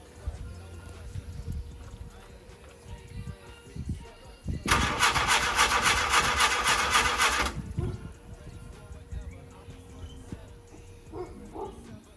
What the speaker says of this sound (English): see if we can actually get this car started